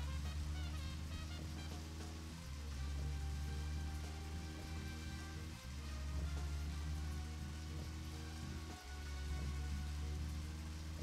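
Rain pours down in the video game Deadly Premonition, a constant broadband hiss with a low car-like rumble and repeating music underneath, no voices.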